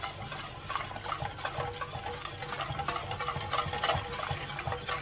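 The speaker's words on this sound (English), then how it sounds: "I've really just got one square that I'm going to pop in and really quickly whisk" A whisk beating a square of chocolate into warm almond milk, a quick continuous swishing and clinking against the pot, close and fairly loud.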